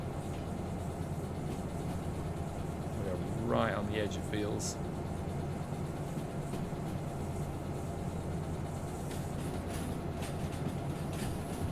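A train locomotive in the Derail Valley video game labours up a hill, its engine drone steady and strained beneath the low rumble of rail cars, while someone talks over it.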